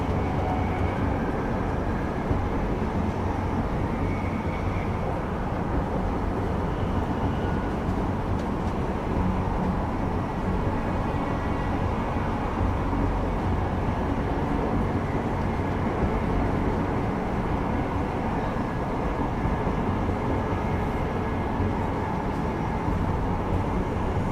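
Steady, loud rumble of a train ride in the video game Deus Ex Mankind Divided, a continuous rolling drone of rail wagon noise that holds evenly throughout with no talk over it.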